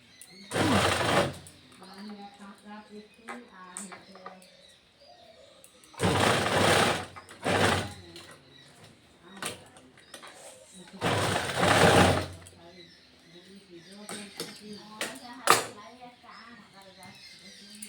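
A sewing machine runs a chap stitch around a new-design blouse in three loud bursts of a few seconds each, with someone talking quietly between the runs.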